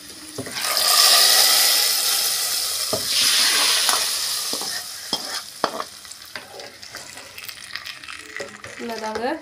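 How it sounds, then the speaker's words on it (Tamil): Vegetables sautéing for sambar in a frying pan with dried red chillies and curry leaves, stirred by hand: a loud, hissing sizzle at first, then settling into quieter frying under sharp, intermittent scrapes and clinks of the spoon. "நல்லா வதக்கிக்கோங்க."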